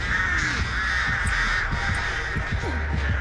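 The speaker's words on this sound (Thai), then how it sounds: "อีกา" Crows caw in the video game Dead by Daylight, a series of harsh repeated calls at steady spacing over a constant background hum, loud and close, with no talk.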